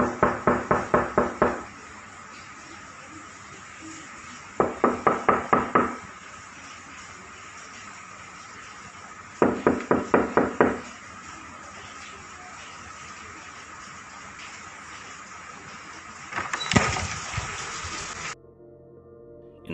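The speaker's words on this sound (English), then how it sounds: "this knocking sounds quite a bit faster than the previous one." Knocking in a ghost video comes as three separate bursts of quick, loud, evenly spaced knocks, with steady hiss between them. A louder, messier burst of noise follows near the end.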